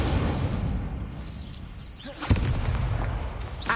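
In Hogwarts Legacy, a fire spell being cast makes a loud, sustained roaring whoosh of flame, with a sharper burst partway through and crackling game ambience throughout.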